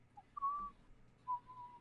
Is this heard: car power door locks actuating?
no